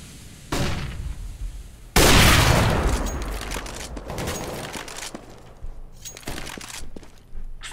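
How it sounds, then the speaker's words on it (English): A flashbang grenade going off in a shooter video game: a sudden loud blast that rings and decays over a few seconds, followed by scattered gunfire bursts and bangs. "I'm throwing a flashbang."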